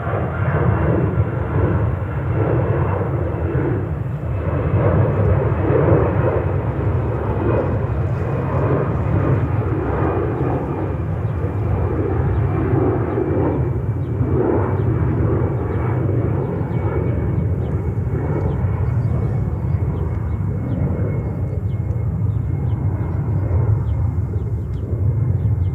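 A Virgin Atlantic jet airliner at JFK Airport, New York, its engines producing a steady, loud roar that holds without a break.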